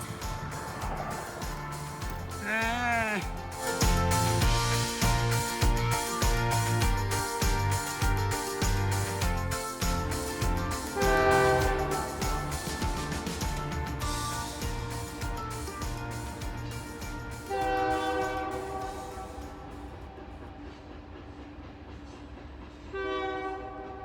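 A train rumbles and clatters by nearby in Haugan, Montana, its horn blaring in several long blasts over the steady rolling noise, no voices.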